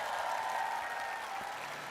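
A crowd at a talk concert applauds in a brief, steady, continuous burst of clapping that fills the whole short moment.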